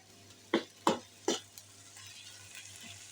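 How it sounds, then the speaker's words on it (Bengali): Ginger garlic paste frying in oil for a prawn bhuna, three distinct scraping stirs up close over a low, quiet sizzle that fades into softer frying. "তেলের মধ্যে কষিয়ে নিব। কারণ আদা রসুনের কাঁচা একটি গন্ধ আছে, তেলের মধ্যে ভেজে নিলে ওই গন্ধটা থাকে না।"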